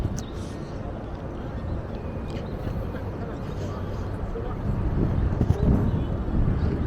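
Strong wind roars steadily at night in Qurain, Kuwait, a broad low rumble buffeting the microphone throughout and growing heavier toward the end.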